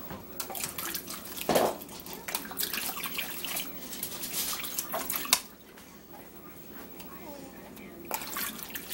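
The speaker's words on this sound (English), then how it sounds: "Leah, go for a swim." Water splashes and drips close by while someone swims, irregular sloshing and bursts of splashing with quieter stretches between.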